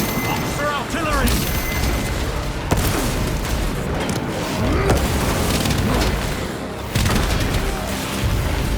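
Artillery blasts in the video game Space Marine 2, repeated heavy booms and rumbling impacts layered with battle noise and a shouting voice over the top.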